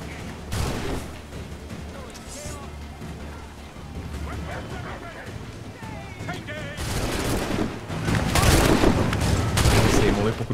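Enemy gunfire in Assassin's Creed III, a loud, busy stretch of repeated shots and crashes that builds toward the end, with a voice talking underneath.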